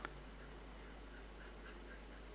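A pencil sketches very lightly on paper while drawing an isometric square, giving a faint, soft scratching spread across a quiet room with no talk.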